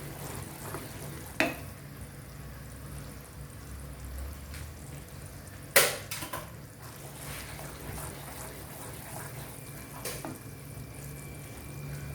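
Jaggery melts in a pan for puffed rice laddu with a faint, steady sizzle and bubbling, interrupted by a few sharp clinks and scrapes of stirring, the loudest near the middle.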